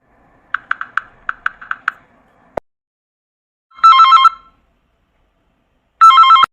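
A phone dialing and ringing as a call is placed: a quick run of keypad beeps, a click, then two loud electronic ring bursts separated by silence.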